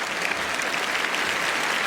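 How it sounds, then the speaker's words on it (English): An audience at a Mars/Venus gala in Winnipeg claps together in steady, dense applause, close and even throughout with no speech over it. "Clap if you're in love."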